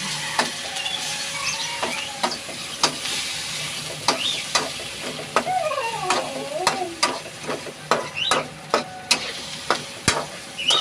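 Ground meat for chop suey fries in a pan with a constant sizzling hiss while a spatula clacks and scrapes in a rapid, irregular rhythm that grows busier toward the end, close and loud.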